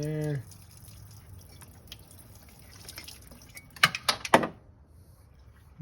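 Leftover water drips from a drained oil cooler on a BMW X3 during oil leak repair, a few sharp close drips and small clatters coming in a brief cluster after a quiet stretch.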